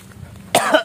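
A single sharp cough, close and loud, bursting out after a moment of quiet room noise.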